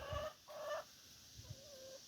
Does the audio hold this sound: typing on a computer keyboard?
no